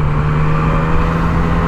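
A Yamaha MT-09 triple-engine motorcycle drones loud and steady at close range, a continuous throaty engine note with wind rush.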